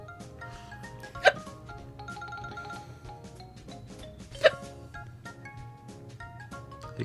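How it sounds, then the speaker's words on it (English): Two sharp hiccups, about three seconds apart, stand out over a steady bed of background music and room noise during a live breakfast stream. "Hiccups got you bad."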